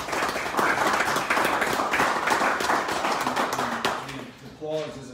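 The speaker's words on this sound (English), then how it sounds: "You guys give Eric a round of applause." Applause during a monthly town hall meeting, a crowd clapping steadily and then thinning out near the end as voices come in over it.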